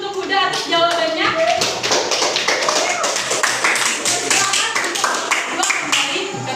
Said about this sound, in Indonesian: kita beri aplaus dulu untuk Huda atas jawabannya